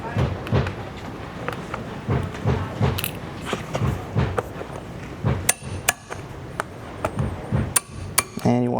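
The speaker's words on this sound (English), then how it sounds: "This has got a lot of hand pound rivets in it, so it takes a while to go through the whole body and get those closed up." Hand-pound rivets are hammered closed through compressed leather in a workshop finishing department, with a quick irregular series of sharp close taps and knocks and occasional metallic clinks.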